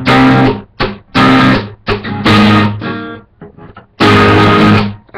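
Acoustic guitar strummed in the instrumental section of a song, loud and close, with bursts of chords broken by short muted gaps and choppy rhythmic strokes, played alone.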